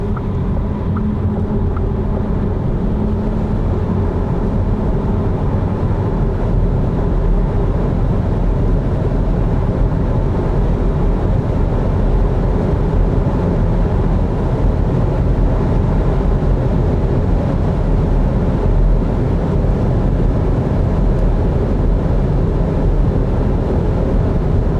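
Volkswagen ID.3 GTX electric car, 79 kWh and 286 hp, cruising at 180 km/h: a steady, loud cabin roar of wind and road noise, constant throughout with no talk.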